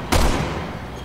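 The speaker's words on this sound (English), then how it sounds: "I'm shooting him with a sniper." A single loud, close sniper rifle shot in the survival horror game Resident Evil 6, a sharp blast followed by a short booming decay, with no talk during it.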